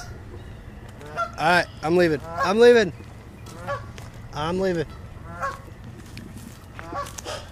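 A goose honks near its nest with eggs by a river, several loud, close, nasal honks in a quick cluster followed by a couple of fainter ones, while someone speaks briefly.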